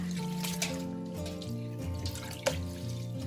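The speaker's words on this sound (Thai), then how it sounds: "แล้วแช่ในน้ำเย็นทันทีเลยค่ะ" Tap water runs and splashes into a sink or bowl as noodles are soaked in cool water, a steady trickling flow with small drips and one brief clunk.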